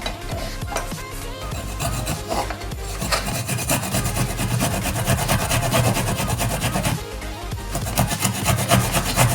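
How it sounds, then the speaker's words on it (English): Fresh ginger rubbed against a grater while making Jamaican sorrel drink gives a close, loud, rhythmic rasping scrape in quick repeated strokes, with a brief pause before the grating resumes, and no talk. "So I'm just gonna grate my ginger."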